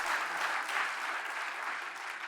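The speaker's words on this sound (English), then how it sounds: "Scott pauses for the applause." Audience applause at an awards ceremony, a steady wash of clapping from a crowd that holds evenly throughout, moderately loud with no voices over it.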